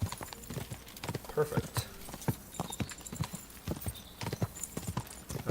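A ridden horse's hooves clip-clop in the medieval game Kingdom Come Deliverance, a steady close rhythm of hoof strikes, with a brief spoken word over them.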